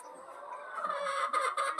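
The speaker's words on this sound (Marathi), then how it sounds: "आज आपण कोंबड्यांना कांदा पात खायला घालणार आहोत." Hens at an organic free-range village poultry farm cluck and chatter in a busy overlapping chorus, steady and moderately close, with a few sharper calls near the end.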